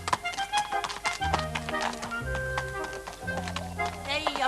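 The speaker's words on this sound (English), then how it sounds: "I'm on a horse again." A horse's hooves clip-clop in a steady, moderately close rhythm of sharp taps, mixed with voices and other low, humming background sound.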